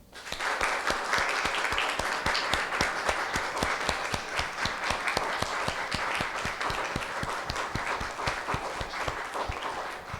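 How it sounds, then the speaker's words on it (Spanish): A church congregation applauds loudly and steadily at a prayer workshop, dense clapping sustained evenly throughout without a break. "vamos a dar un fuerte aplauso a Jesucristo"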